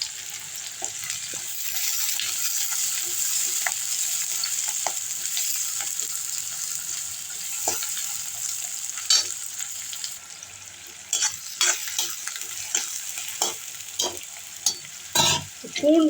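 Onions fry for anchovy (nethili) thokku with garlic and curry leaves, giving a steady close sizzle. A spoon stirs and scrapes the pan now and then, making scattered clinks and knocks.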